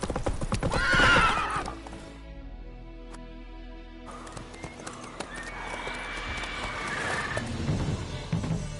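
Horse galloping in The Witcher 3, rhythmic hoofbeat clip-clop close up with snorts and a whinny, no talk over it.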